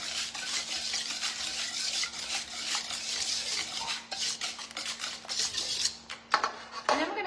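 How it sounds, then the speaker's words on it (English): Vanilla extract being whisked into biscotti batter in a bowl, a steady close scraping and stirring rasp that runs on continuously, broken near the end by a couple of sharper knocks. "And we're gonna whisk that in."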